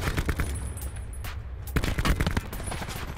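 Gunfire in a video game fight, with rapid bursts of loud, close shots in quick succession, a short pause mid-clip, then more rattling volleys.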